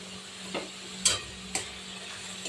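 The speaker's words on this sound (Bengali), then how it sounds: "লবণ, এবার নেড়ে চেড়ে দিয়ে দেবো লঙ্কা বাটা।" Fish curry masala with chilli paste being stirred in a pan for koi fish kalia, a few soft scraping strokes spaced about half a second apart over a faint steady hum.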